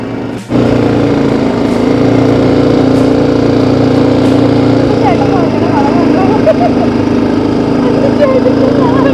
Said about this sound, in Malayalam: ഇവിടുത്തെ എ സി ടി ബൈക്ക് എന്ന് പറഞ്ഞ ബൈക്ക് എക്സ്പീരിയൻസ് ചെയ്തുകൊണ്ടിരിക്കുകയാണ്